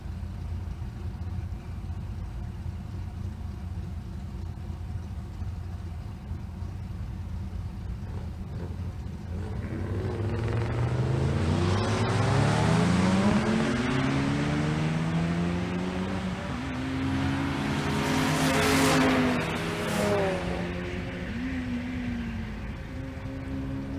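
Two vehicles in a side-by-side drag race, one a turbocharged Suburban, roar past with rising engine and exhaust noise that swells, peaks and fades, then a second loud surge follows over steady background rumble.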